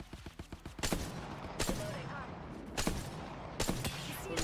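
Bursts of gunfire in the battle-royale shooter Apex Legends, a quick rattle of shots followed by several separate loud volleys spaced about a second apart, fairly faint overall.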